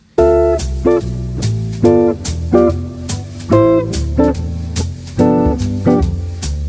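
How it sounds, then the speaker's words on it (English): Jazz guitar comping over a ii-V progression, with short, syncopated chord stabs over a steady bass line, repeating a clear rhythmic pattern for several bars. "if we were to use the same comping rhythm on a 2/5 situation, it would sound like this"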